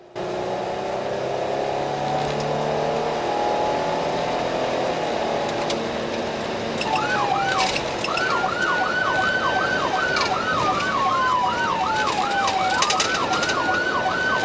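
A police car siren wails, rising and falling, then switches to a faster yelping pattern, loud and continuous over steady road noise during a pursuit in Fort Worth, Texas.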